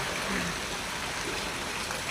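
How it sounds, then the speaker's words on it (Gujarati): Heavy rain falls outside a house on a darkened late afternoon, a dense unbroken wash of hiss and patter that holds at a steady, moderate level throughout. "તો જોઈ શકો કેટલો વરસાદ।"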